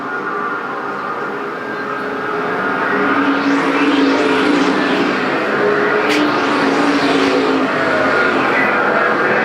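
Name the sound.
race cars racing on speedway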